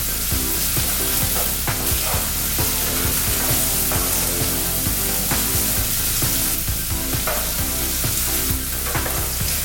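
Ingredients for tteokbokki all'amatriciana fry in a pan with loud, continuous close sizzling and crackle, punctuated by occasional stirring clinks, with no talking.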